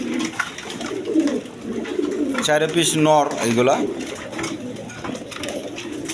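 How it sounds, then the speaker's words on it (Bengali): Pigeons coo close by, with a clear rolling coo mid-clip among other birds, while someone talks over them. "এখানে চাই চার পিস কবুতর আছে দেখেন"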